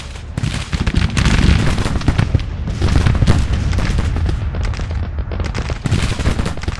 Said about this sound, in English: This artillery certainly did weigh in quite a bit.